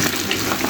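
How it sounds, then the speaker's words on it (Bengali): Raw mango pieces for pickle being stirred in a pan give a short, steady wet sizzle with soft scraping, close and fairly loud, with no voices. "আমি আবার নেড়ে চেড়ে নিচ্ছি, ভালো করে মিশিয়ে নিচ্ছি।"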